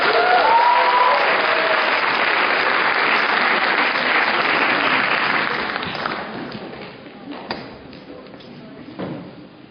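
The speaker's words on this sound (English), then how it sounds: "So let's all give a big clap for Deeksha." An audience at a dance debut recital applauds loudly and steadily for several seconds, then the clapping thins out and fades to scattered claps.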